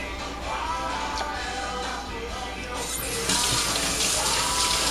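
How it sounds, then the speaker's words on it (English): Running tap water splashing over a potato masher in a sink while making black raspberry wine, a steady close rushing stream that grows a little louder and brighter toward the end. "rinse it off again to make sure everything is clean."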